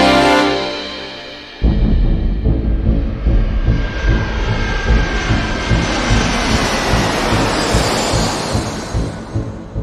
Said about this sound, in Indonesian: pesawat Garuda Indonesia GA-206 tujuan Medan tinggal landas dari Bandara Talang Betutu, Palembang